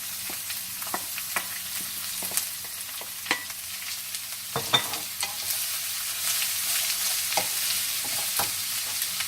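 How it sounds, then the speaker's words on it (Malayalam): Ginger, garlic and chopped onion fry in a pan with a steady hiss of sizzling oil, broken by repeated clinks and scrapes of a spoon stirring nearby. "ഇഞ്ചിയും വെളുത്തുള്ളി ഏകദേശം ഒരു ബ്രൗൺ നിറമായി കഴിയുമ്പോഴത്തേക്കും അരിഞ്ഞ് വെച്ചിരിക്കുന്ന സവാള ചേർക്കാം"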